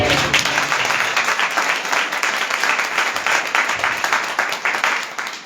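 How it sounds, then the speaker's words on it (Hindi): A church congregation claps together, a loud, fairly rhythmic burst of many hands that keeps an even beat for several seconds before tapering off. "ताली बजाकर"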